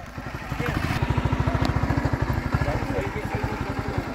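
Cowboys ride motorbikes at a rural cattle roundup, and a motorcycle engine throbs close by in a fast, even pulse under people talking.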